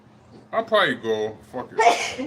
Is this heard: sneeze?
yes